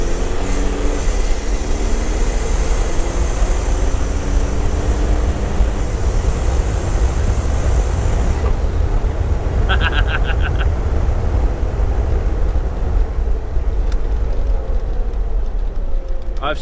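A Jeep TJ Wrangler with a swapped BEW TDI diesel engine idles loudly and steadily up close, a continuous low rumble that holds for the whole stretch with a few faint higher tones passing over it.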